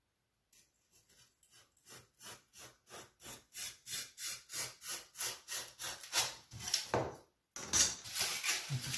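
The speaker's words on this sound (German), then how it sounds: "Und schneiden das jetzt hier entlang" A hand saw cuts through a ramp piece along a marked line, giving steady back-and-forth rasping strokes that quicken and grow louder, then pause briefly before a final few strokes, with no talking.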